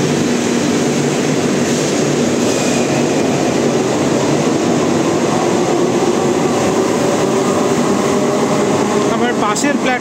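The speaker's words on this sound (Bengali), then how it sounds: "পাশের প্ল্যাটফর্ম দিয়ে ট্রেন বিমানবন্দর অভিমুখে যাচ্ছে।" A metro train runs past on the neighbouring platform at Noapara station, heading toward the airport. It makes a loud, steady rolling roar that fills the whole stretch without letting up.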